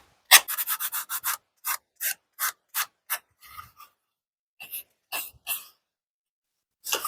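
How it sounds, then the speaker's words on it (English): 120-grit sandpaper rubs along the edges of a wooden toy Ford Model A car in quick, crisp strokes, first a rapid run of short rasps, then slower spaced passes with gaps, close up and clear. "Now I'm just using 120 grit sandpaper here just to ease the edges up."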